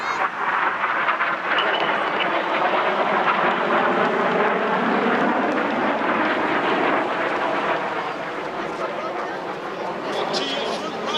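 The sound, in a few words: Red Arrows display jets flying a manoeuvre at an airshow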